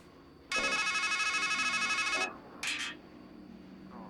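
In the horror video game Strangeland, a payphone gives one loud electronic ring burst that lasts about two seconds, then a brief second chirp, with no voices.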